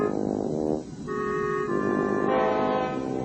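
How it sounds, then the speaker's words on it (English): Boat horns honk in an animated harbor scene, long sustained toots one after another and overlapping, loud and close, with no talking. "Philip and Fillmore, the fairy twins, honked loudly at it"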